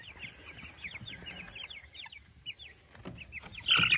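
Young chickens moved from a brooder to a chicken tractor cluck and chirp softly in quick repeated bursts while gathered at a feeding trough, ending in a louder cluster of calls.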